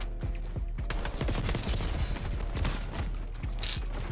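Rapid bursts of Goblin MK2 gunfire in Call of Duty Black Ops 6, dense and loud, with repeated shots and impacts running continuously without pause.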